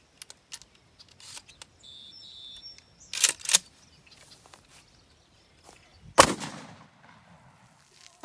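A shotgun fitted with a pistol grip fires 3-inch Magnum buckshot outdoors, with two sharp close blasts about three seconds apart amid faint birdsong and small rustling noises.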